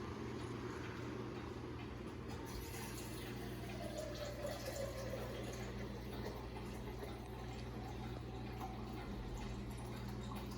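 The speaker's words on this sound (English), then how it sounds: "And then I'm going to add the rest of this 700 mils of water," Water pours steadily into a cooking pot, a continuous rushing fill lasting the whole stretch with no talking over it.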